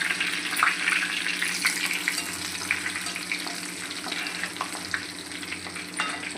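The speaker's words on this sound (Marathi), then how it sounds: "आता आपण लसूण घालू. त्यातच आपण मस्त असं कढीपत्त्याचा तडका देऊ." Garlic and curry leaves crackling in hot oil with cumin for a tempering, a dense continuous sizzle with sharp pops and a stirring spoon, close and loud with no talk.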